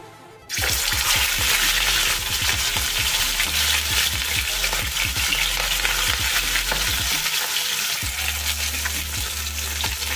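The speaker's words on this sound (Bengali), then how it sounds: "মাছগুলো ভেজে নেব।" After a brief quiet start, a loud steady sizzle of rohu fish frying in a wok begins and continues, with occasional utensil clinks.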